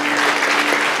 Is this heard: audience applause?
yes